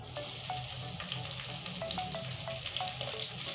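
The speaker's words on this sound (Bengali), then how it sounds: "ক্যাপসিকাম আর পেঁয়াজের পাপড়িগুলো ভেজে নেবো আমি একসঙ্গে" Capsicum and onion petals fry together in a pan with a loud, steady sizzle that never lets up, dotted with faint ticks and crackles close by.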